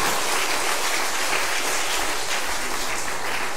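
A church congregation claps together in a dense, loud, continuous burst that sounds almost like heavy rain, with no voices standing out.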